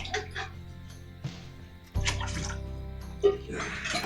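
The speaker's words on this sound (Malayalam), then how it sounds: "ഇനി എല്ലാം വെള്ളം ഒഴിച്ച് കൊടുക്കുക" Water pours steadily into a pot of rice for mutton biryani, a continuous splashing stream with a few clinks and knocks, close by and moderately loud.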